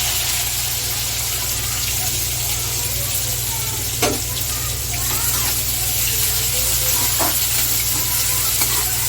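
Curry leaves and chopped onion fry in a hot pan with a steady, loud sizzle and spatula stirring throughout, with a few sharper clatters along the way.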